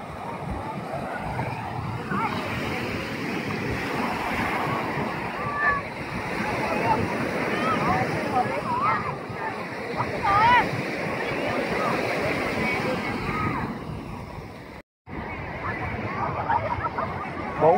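Gentle sea waves wash steadily along Nha Trang beach on a breezy summer afternoon, a continuous soft surf with a busy crowd murmuring nearby and voices talking throughout.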